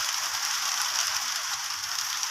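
Raindrops patter steadily on a roof in a dense, even hiss with no pauses, moderately loud and close.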